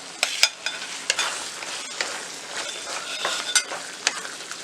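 Kadai paneer gravy being stirred in a pan with sugar added, a gentle sizzle under repeated close clinks and scrapes of a spoon against the metal, with no talking.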